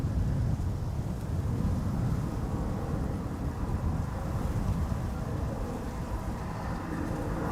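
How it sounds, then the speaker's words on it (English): Strong wind at Amsterdam Schiphol airport, near the Polderbaan runway, blows as a steady low rumble of gusts buffeting the microphone, moderately loud and continuous with no voices. "The wind is definitely not slowing down here yet."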